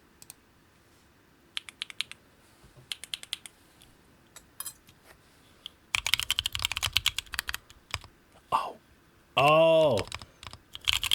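Typing on a custom Jackie Studio Haitun keyboard with turbulence switches on a brass plate and PBT keycaps begins as sparse clacks and then becomes fast, dense clicking close by. It is broken by a few brief sounds that resemble a voice.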